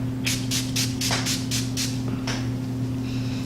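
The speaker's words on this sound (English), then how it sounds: "This is the pearlescent spray." About eight quick hissing spritzes from a pearlescent makeup face spray bottle come in a steady rhythm, close by, over a low constant hum.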